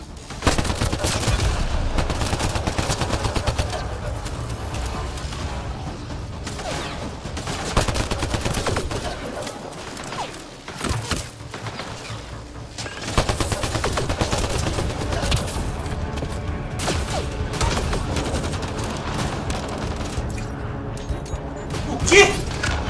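Weapons fire without letup in Mass Effect Andromeda, dense rapid bursts and crashing impacts that fill the whole stretch, loud and continuous over game music and effects, with a short lull near the middle.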